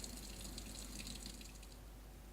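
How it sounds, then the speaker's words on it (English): Cannulas being rinsed in clear water, a soft steady stream of running water with light splashing and trickling, quiet and continuous with no talk. "Rinse in clear water."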